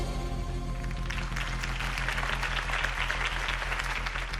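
A crowd applauds after a campaign speech in the video game The Telltale Batman, a dense, steady roar of clapping that swells in after a second and holds loud and even to the end.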